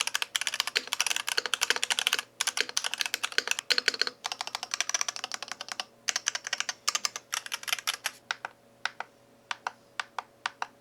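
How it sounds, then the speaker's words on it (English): Typing on a Shurikey Saizo 75% wireless mechanical keyboard with Daisy switches: quick, close, clacky keystrokes in fast bursts with brief pauses, thinning to slower single presses near the end. "let's actually go ahead and do the sound test now"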